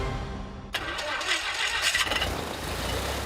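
Vintage Piper PA-12 airplane engine starting, a sudden loud catch and cough into a rough running roar after a moment of low noise, heard up close.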